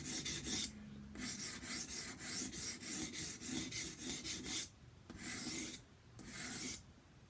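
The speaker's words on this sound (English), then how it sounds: "I'm going to work from the heel to the spine of the knife using the corner of the stone" A kitchen knife is sharpened on a sharpening stone, worked from heel to spine on the stone's corner, making steady rhythmic rasping strokes that pause briefly twice, close and alone with no talk.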